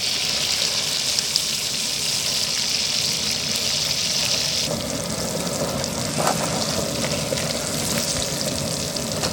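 Sundakkai vathal, dried turkey berries, frying in sesame oil in a pan, giving a steady, close, dense sizzle that holds evenly throughout with no voices.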